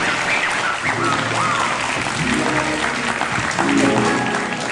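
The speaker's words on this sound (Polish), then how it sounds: "Wielkie brawa!" Studio audience applauding on a Polish talk show, a steady loud wash of clapping throughout with a voice speaking over it.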